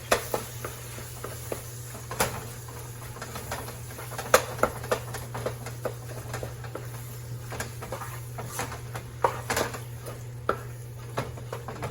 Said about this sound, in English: I'm gonna put half of my macaroni inside of this here meat sauce